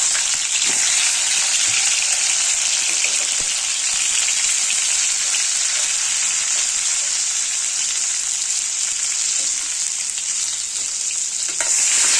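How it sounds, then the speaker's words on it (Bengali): Eggs frying in a pan for a Bengali egg and potato dish, giving a steady loud hissing sizzle throughout with occasional faint scrapes, no voices. "এবারে এই দিকে আমি ডিমটা ভেজে নেবো।"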